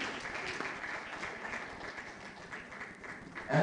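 At a book launch and fundraising event in Ghana, an audience gives a round of applause, heard as faint, distant, muffled clapping that holds steady before a sudden louder burst of noise at the very end.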